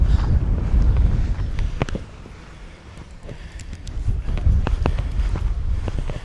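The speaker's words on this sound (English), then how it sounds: "That wind is strong again." Strong wind gusting across a sand beach at Carlyon Bay, a steady loud rumble of buffeting air with brief sharper bursts and scuffs, no talking.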